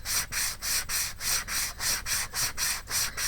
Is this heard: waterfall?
no